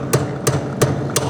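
A hammer tapping a wheel weight onto a tire rim on a Sun CWB1762 tire balancer, four sharp evenly spaced metallic taps in quick succession over a low background hum.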